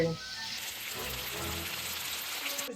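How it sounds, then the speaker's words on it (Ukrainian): Notothenia fish sizzles and crackles steadily in a pan over high heat, a dense hiss of frying close by. "Будемо смажити при гарному вогні"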